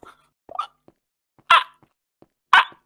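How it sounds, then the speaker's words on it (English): A pet dog barking twice indoors, two loud sharp barks about a second apart, with faint small sounds in between and no talking. "my dog will not shut the fuck up"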